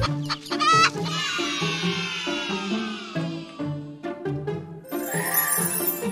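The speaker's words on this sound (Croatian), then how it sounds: "Kokoš živi u kokošinjcu." Animated hen clucking in a series of short, bright calls with rooster-like tones, alone and fairly loud, followed by a light jingle.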